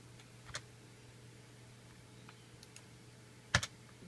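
Keystrokes on a computer keyboard while entering a command into a control terminal for a GVG110 switcher, heard as a few sparse, faint clicks with a louder double tap near the end, no talking.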